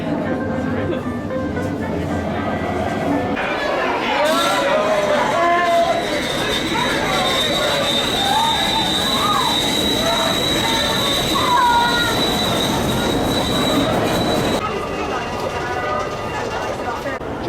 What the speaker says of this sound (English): Just finished Big Thunder Mountain Railroad